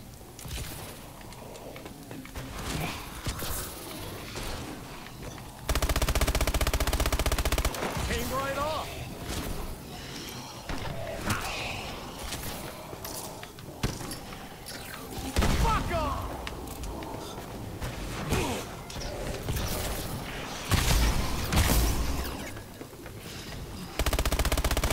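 Weapon fire in the video game Exo Zombies: repeated bursts of gunshots and loud blasts over a busy game soundtrack, with a player talking at times.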